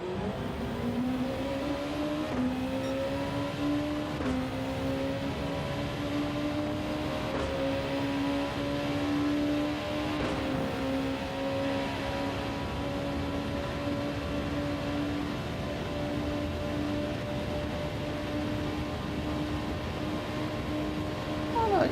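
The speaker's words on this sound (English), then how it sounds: "My car's quick, it's staying with Rita." Race car engines from the Gran Turismo 7 driving game drone steadily throughout, holding a sustained pitch that climbs gradually with no talk over it.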